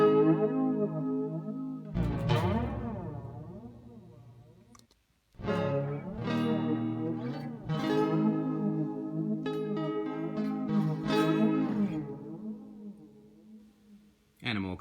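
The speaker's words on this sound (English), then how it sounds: "And now it's flanger." Guitar chords ring out through the flanger mode of an Electro-Harmonix Oceans 11 reverb pedal, their tone sweeping up and down in a whooshing, jet-like swirl, with several strums and sustained notes.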